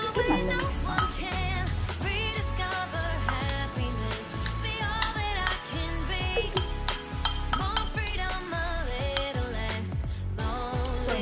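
A spoon stirs and tosses a soya salad of cucumber, carrot, cumin powder, pepper powder and salt in a bowl, giving a steady run of close clinks and scrapes with no talk.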